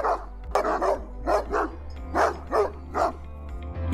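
Dogs barking in a small Segovia village, a series of sharp repeated barks and yips at moderate distance over a low steady hum, with uneven spacing between bursts.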